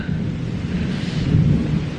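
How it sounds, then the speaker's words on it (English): Thunder rumbling through a heavy rainstorm at the Ritz-Carlton, a deep, loud, rolling roar over steady rain hiss, with no talking. "That's the sound of thunder."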